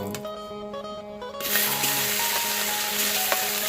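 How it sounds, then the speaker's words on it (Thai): Nile tilapia fish meat frying in a little oil for Isan-style laab, a broadband sizzle that jumps louder about a third of the way in and then crackles steadily and close, with no voices. "น้ำมันเล็กน้อยนะครับ ใส่เนื้อปลาลงไป"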